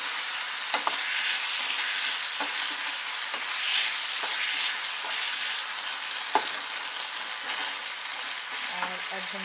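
Soy sauce and sugar sauce for restaurant-style Indian chilli chicken bubbling and sizzling in a pan, a steady broadband hiss with occasional stirring clinks and taps throughout, no voices.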